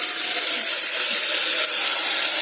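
A brinjal mixture for kathirikai kadayal is poured into a hot pan and sizzles: loud, continuous close-up hissing that holds steady throughout, with no voices.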